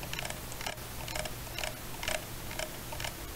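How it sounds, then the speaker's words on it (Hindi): A Lenovo 300 computer mouse scroll wheel is rolled in short bursts, giving faint, close, ratchety ticking repeated roughly every half second over a quiet room hiss. "एंड उतनी ही बेकार इसकी स्क्रॉल व्हील की साउंड है।"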